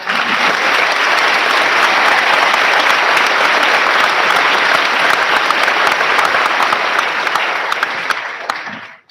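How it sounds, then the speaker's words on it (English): Dense, steady applause from a school audience at an eighth-grade promotion ceremony, sustained loudly for about nine seconds before fading out at the end. "We can clap for them."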